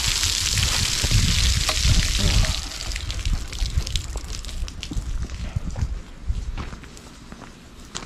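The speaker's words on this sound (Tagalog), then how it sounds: "Pagka nabuhusan tayo ng kung ano-ano dyan, ayan, shower lang dyan." An emergency shower at a crusher plant runs with a steady rush and splash of water, loud at first and then thinning into an uneven trickling patter with scattered clatters, no voices.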